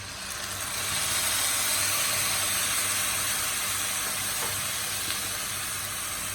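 Spices dropped into hot oil with onions for a boal fish curry with gourd, producing a loud, steady, close sizzle and hiss that swells after the first second and continues evenly, with no voices.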